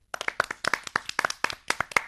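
Children clap to welcome a guest at a kids' programme, a fairly faint, brisk run of sharp handclaps in quick, slightly uneven rhythm for about two seconds.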